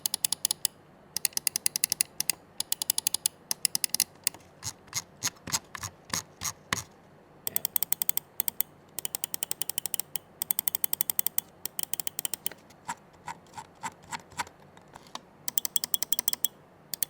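A Logitech G Pro mouse with hybrid light force switches clicks in rapid bursts: crisp, sharp, close-up clicks, sometimes in quick runs and sometimes spaced, with brief silent gaps between the flurries.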